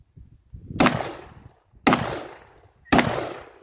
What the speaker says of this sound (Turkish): Şu açıktaki üç hedef atıyorum.